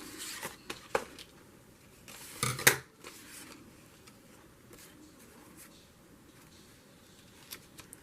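Scissors snip through paper for a journal page, a few close crisp cuts with one longer slicing run in the first seconds, followed by quieter rustling and faint handling sounds.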